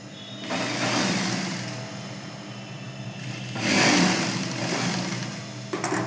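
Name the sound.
sewing machine stitching petticoat shoulder seams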